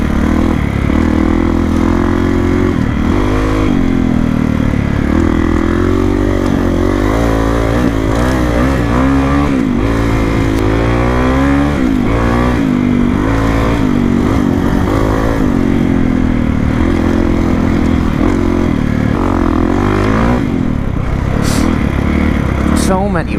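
Kawasaki KX450X dirt bike engine climbing over desert rocks, loud and close, revving and shifting pitch continuously with rough labouring bursts, with some talk in the background.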